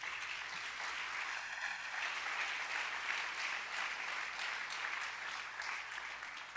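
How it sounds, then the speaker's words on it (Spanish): A church congregation at a Spanish-language sermon gives a sustained round of applause, a steady, fairly distant roar of clapping that holds evenly throughout. "Dale un buen aplauso al Rey."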